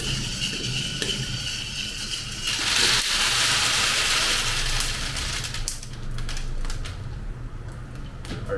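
Freshly roasted coffee beans tumbling out of a home roaster into a tray: a steady rustling, crackly clatter with a louder surge midway, over a constant low rumble from the roaster.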